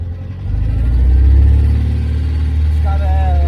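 An Austin Healey BN2 sports car with a special engine runs loud and steady, a low rumble holding and swelling slightly as it revs, with people talking over it.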